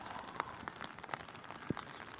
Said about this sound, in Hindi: बारिश लगी ने ज़बरदस्त किस्म की